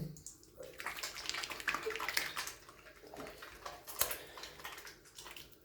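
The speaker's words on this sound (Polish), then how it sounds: "puścimy trochę wody" Tap water runs onto shampoo lather in a hand, a soft, close splashing and trickling with uneven surges, fairly quiet and unaccompanied.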